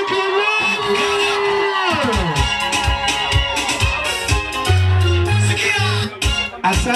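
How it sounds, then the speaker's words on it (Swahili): A wedding crowd erupts at a cake cutting with high ululation, whoops and yelling that swell into loud sustained cheering, over a background of music. "Vigelegele piga kelele"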